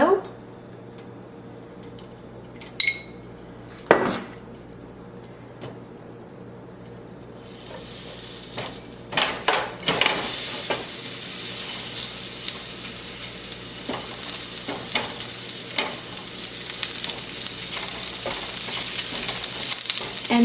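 Beef strips frying in a hot pan with a spoonful of oil over high heat, quiet at first, then a loud, steady sizzle that runs to the end with a few clicks and stirring scrapes.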